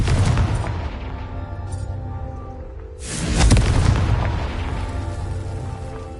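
A Confringo blasting spell explodes in Hogwarts Legacy: one loud, sudden boom about midway through that fades into a rumbling tail over a steady game soundscape.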